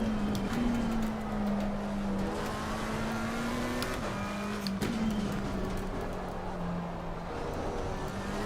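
Race car engines in Assetto Corsa Competizione at Silverstone, including a McLaren 720S Evo with an Audi nearby: a steady, droning engine note that rises and dips through gear changes, with faint clicks and rumble underneath.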